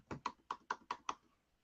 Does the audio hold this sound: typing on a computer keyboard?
yes